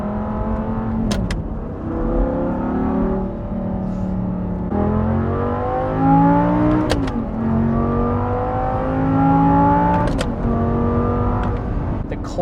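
An Audi R8 V10 with a gated manual gearbox accelerates hard through several gears, its engine note climbing steadily and dropping sharply at each shift, loud and close throughout with no talking.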